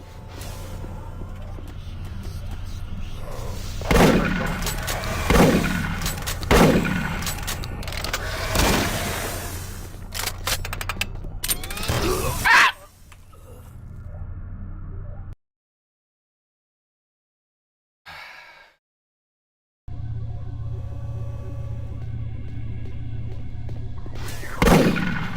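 Gunfire in the Doom 3 Phobos mod comes as a run of loud, sharp shots spaced a few seconds apart over a steady droning background. A brief silent gap follows, then the ambience returns.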